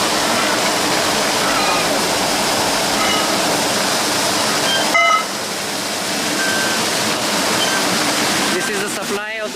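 Water gushes steadily from a village water supply line on a trek near Dehradun, a loud continuous rushing like a small waterfall, with faint background noise and a brief shift midway.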